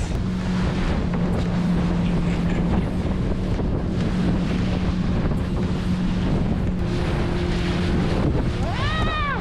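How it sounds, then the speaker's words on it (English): Steady rushing wind and engine drone of a boat moving over open water off Belize, with constant buffeting noise throughout and no clear speech. "So we're enjoying this beautiful boat ride in sunny Belize."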